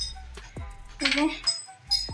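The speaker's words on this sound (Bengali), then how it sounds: "থালা বাসনগুলো তুলে নিচ্ছে" Steel dishes and utensils being picked up in a home kitchen, a few close sharp clinks and clatters in short bursts, with a voice talking between them.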